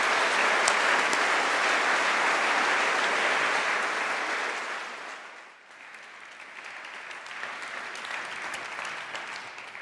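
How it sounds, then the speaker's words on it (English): Dense, sustained applause from an audience at a craft and design awards ceremony, dipping midway and then continuing more quietly as a speaker comes to the stage, with no talk audible. "I'm sure you give her a huge round of applause as Judith comes to introduce the Goldsmiths"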